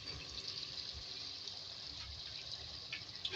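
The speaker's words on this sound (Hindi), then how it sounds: "इसमें हम पानी ऐड कर रहे हैं हाफ कप।" Half a cup of water poured into a pan of aloo matar gobhi sabzi gives a steady, faint splashing gush that runs on evenly without any voices.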